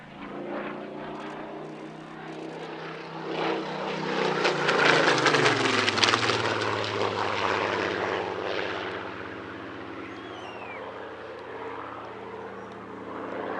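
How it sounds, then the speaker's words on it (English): A Royal Air Force Spitfire 21, built in 1945, flies past at an airshow with a loud propeller-engine drone that swells as it nears, peaks, then drops in pitch and fades steadily as it moves away. "A striking paint scheme on this aircraft, depicting a Royal Air Force Spitfire 21"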